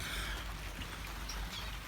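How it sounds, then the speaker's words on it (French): Rain falls steadily on an outdoor aviary, a soft, faint patter and hiss of drops with no voices over it. "Alors il pleut."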